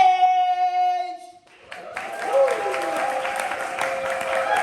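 Audience applause breaks out at an Atlanta spring poetry slam after a sustained musical tone cuts off, steady clapping from a room of listeners with a voice rising over it.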